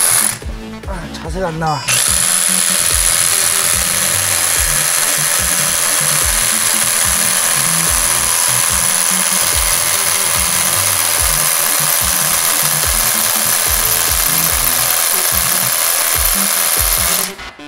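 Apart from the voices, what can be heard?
Hilti TE 6-A22 cordless rotary hammer drilling a hole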